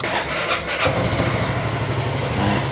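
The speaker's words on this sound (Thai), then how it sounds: "อันนี้ก็คือเครื่องยนต์ติดเรียบร้อยนะครับ" A starter whirs briefly before a 2020 Honda Forza 350 scooter engine with stock exhaust catches and settles into a steady, close idle.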